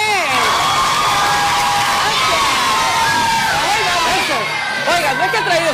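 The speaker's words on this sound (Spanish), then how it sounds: "Un aplauso y un viva de los chicos para él." A crowd of children cheers, whoops and shouts loudly and continuously, with voices rising and falling over a busy, lively background.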